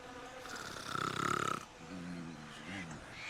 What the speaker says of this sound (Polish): Czy ktoś chrapie?